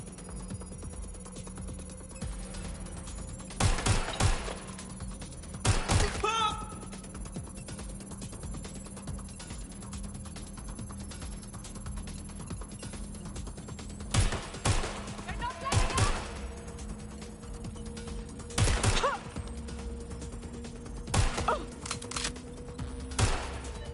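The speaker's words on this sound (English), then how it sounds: "I'm hearing gunfire!" Bursts of rapid gunfire from a PS4 video game crack out in short volleys over a low electronic hum, spaced irregularly and fairly faint.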